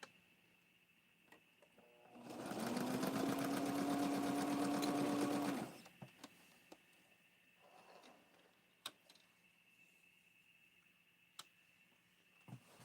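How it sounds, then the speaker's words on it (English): A sewing machine stitches the top of a doll dress in one steady, close run of about three and a half seconds, followed by quiet handling clicks and small taps. "I have to sew the top of it together"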